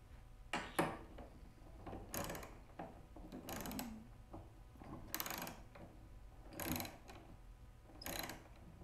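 Socket wrench ratcheting in a workshop, with short bursts of clicking pawl sounds repeating every second or so, close but fairly quiet against a low background hum.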